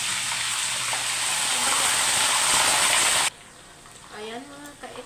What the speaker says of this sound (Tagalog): So, iprito na natin yung chicken natin mga ka-ate.